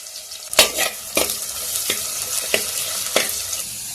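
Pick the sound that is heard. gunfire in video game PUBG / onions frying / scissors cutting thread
onions frying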